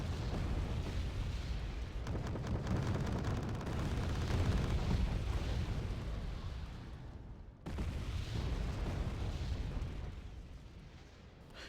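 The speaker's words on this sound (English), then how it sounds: "You can see a lot of artillery is falling on us." Artillery shells exploding in Wargame Red Dragon: dense, rumbling blasts layered into a continuous roar, broken by a brief cut, then resuming, loud and heavy throughout.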